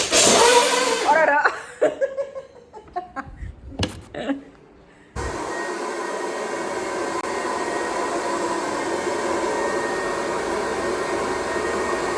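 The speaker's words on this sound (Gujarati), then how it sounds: "પણ ડ્રાયર મારી દઈશ એટલે કોરા પડી જાય." A hair dryer blows with a steady, loud whooshing drone that starts abruptly and continues alone after a stretch of talk and laughter.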